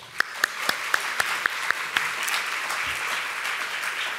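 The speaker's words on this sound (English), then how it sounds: "Please join me in a round of applause." Keynote audience applauding sponsors at a conference event, a steady wash of crowd clapping with a series of sharp, evenly spaced louder claps nearby at the start.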